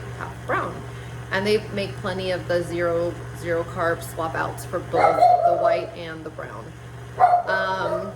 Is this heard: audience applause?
no